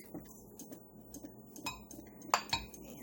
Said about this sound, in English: I think I'm going to try doing it with this little mini whisk